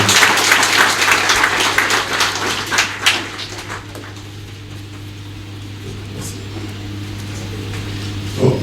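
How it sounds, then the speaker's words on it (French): An audience at a training centre ceremony welcomes a speaker with applause, loud clapping for about three seconds that fades away, leaving a steady background hum and low room noise. "avec vos applaudissements s'il vous plaît"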